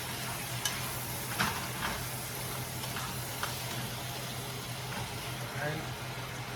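Potatoes with bacon, onions and peppers frying in a pan, a steady low sizzle running throughout with occasional stirring scrapes, while a low background hum sits underneath.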